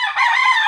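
Super Brown Red gamefowl rooster of Mount Banahaw stock crowing, a single loud, close, harmonic crow cut short in under a second.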